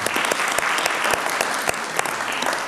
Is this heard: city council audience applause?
yes